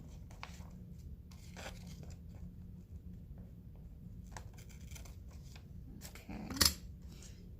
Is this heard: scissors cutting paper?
yes